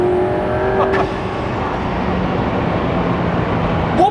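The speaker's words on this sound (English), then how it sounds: "That was 2 turbos. That blow up is amazing." The twin-turbo, 1,400-horsepower Underground Racing Lamborghini lets out a sharp turbo blow-off hiss near the start, then its engine drones on steadily at speed, loud and close, with a short burst at the end.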